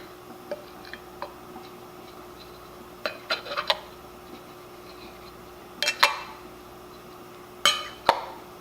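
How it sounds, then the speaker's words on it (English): Metal lids set onto glass canning jars with a pork chop inside, giving sparse, light clinks and taps spread out over several seconds in an otherwise quiet room. "Now we want to put on our lids."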